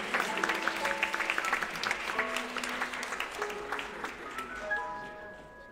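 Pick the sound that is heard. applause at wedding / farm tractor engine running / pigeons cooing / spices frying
applause at wedding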